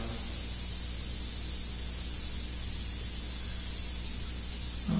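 An airbrush sprays paint for a skin-tone mural, a steady, even hiss of air held for several seconds, close and quiet, with no voices.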